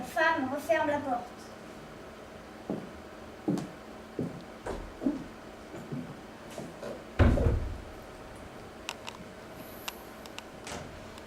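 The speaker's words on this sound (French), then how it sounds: "La femme referme la porte." A door being closed, with a series of soft knocks and thuds and one louder bump near the middle, after a brief chime-like tone at the start, in a quiet room.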